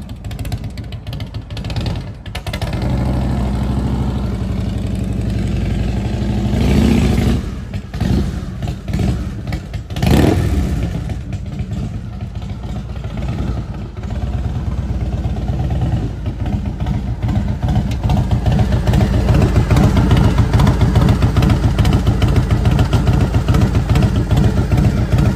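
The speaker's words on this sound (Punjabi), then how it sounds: "ਇਹ ਮੋਟਰਸਾਈਕਲ ਜੀ ਹਾਰਲੇ, ਇਹ ਪੁਰਾਣੇ ਮੋਟਰਸਾਈਕਲ ਨੇ" An old Harley motorcycle engine runs close by for the whole stretch, a deep steady rumble with a few brief revs and some clattering mechanical noise.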